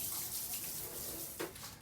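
Tap water rinsing metal stereo preamp parts after an Evapo-Rust ultrasonic bath, a steady faint running-water hiss with a brief splash, close and alone without talk.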